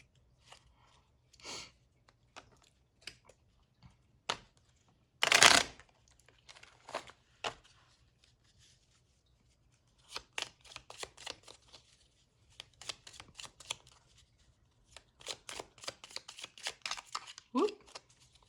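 Cards being riffled and bridged: several sharp rustling bursts and fluttering clicks, one especially loud burst, in a quiet room.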